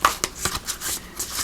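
Tarot cards are shuffled by hand in a series of quick, crisp riffling bursts, close and fairly loud, with no speech.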